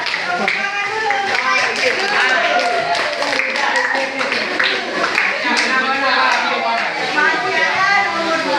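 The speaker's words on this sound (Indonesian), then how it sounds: "Tepuk tangan dulu." Children in a classroom clapping hands together, a dense, sustained patter of many claps mixed with overlapping young voices talking and calling out.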